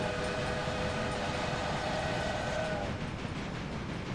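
Locomotive train running in the Railway Empire video game, a steady rolling rumble with a sustained horn-like tone that cuts off near the end, loud and continuous without talk.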